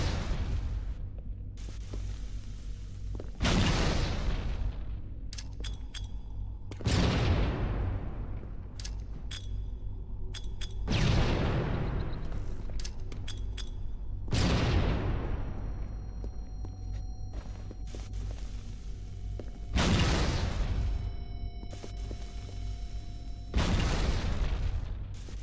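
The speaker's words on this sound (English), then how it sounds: "here's a trick where you can get your grenades to explode instantly on the front of P2, and this only works for plasma grenades" Plasma grenades detonate in Halo 2 multiplayer, six loud booming blasts spaced a few seconds apart, each with a sharp onset and a long decaying rumble over steady background game noise.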